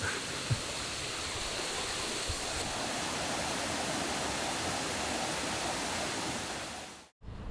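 Steady, dense roar of a waterfall in Gunma, Japan, heard close and loud as continuous broadband rushing water with no talk, cutting out abruptly near the end.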